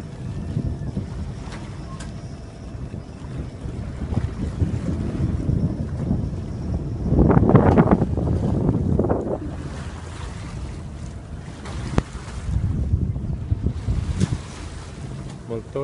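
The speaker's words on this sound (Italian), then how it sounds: "Molto vento," Strong wind buffets the microphone at a finish-line arrival, a heavy low rumble of gusts with a louder surge midway, broken by occasional knocks and handling noise.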